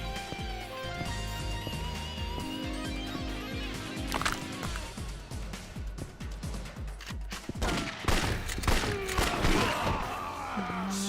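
Repeated gunfire bursts from the Yakuza 4 video game, a dense rhythmic volley of shots with crashes and other game effects layered over music, steady and fairly loud throughout.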